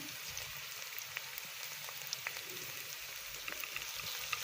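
Onion sautéing with garlic and ginger paste in an oil-filled pan for potato patty filling, a soft, steady, fairly faint sizzle with scattered tiny pops and crackles, no speech.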